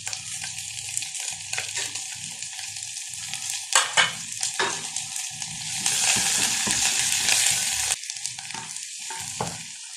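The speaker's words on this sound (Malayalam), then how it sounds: "എണ്ണ ചൂടായി വരുമ്പോഴത്തേക്ക് ചെറിയ ഉള്ളി, വറ്റൽമുളക്," Shallots, dried red chillies and curry leaves crackle and sizzle in hot oil, a steady close-up fry broken by sharp spluttering bursts and the scrape of stirring, growing louder midway before settling back.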